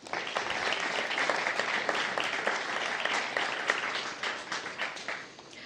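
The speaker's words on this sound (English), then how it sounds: "Let's give them a round of applause." Audience applause at a Guide Dogs for the Blind class graduation, a dense, even round of clapping from a moderately distant crowd that thins into scattered individual claps at the close.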